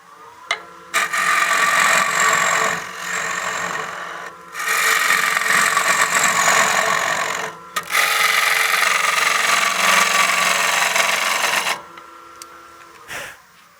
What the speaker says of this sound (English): we've roughed out the majority of this bowl here really quick with these square cutters